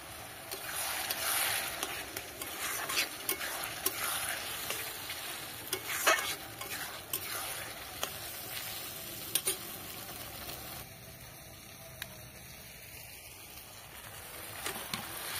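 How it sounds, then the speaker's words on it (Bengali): Masala sautéing with a splash of water in a pan gives a soft, steady sizzle with scattered clicks and spoon scrapes as it is stirred, fairly quiet and close, with no voices. "অল্প জল দিয়ে আর একটু কষিয়ে নিতে হবে।"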